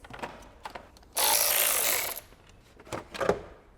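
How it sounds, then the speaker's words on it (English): A plastic trim panel being pried off a BMW E60 M5, a short loud burst of scraping and crackling plastic in the middle, framed by a few softer clicks and knocks. "Now we need to remove this plastic."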